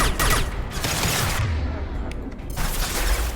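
A weapon firing an impact shot in the video game Mass Effect 2, a loud blast followed by a dense, continuous burst of booming energy that fills the whole clip with little pause.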